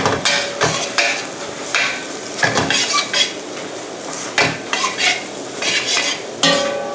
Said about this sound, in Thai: เส้นใหญ่เนี่ยนะคะ เราจะต้องคั่วให้แห้งนะคะ